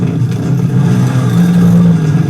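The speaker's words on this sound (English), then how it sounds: "Motorcycles are revving." Motorcycles rev in a tense TV drama scene, a loud, continuous mid-pitched engine drone with a swelling rev that holds steady near the end, filling the short stretch without speech.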